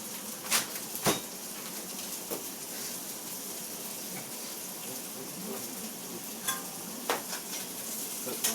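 Sausages sizzle steadily in a pan at medium heat, a continuous close frying hiss punctuated by occasional pops and scrapes of stirring.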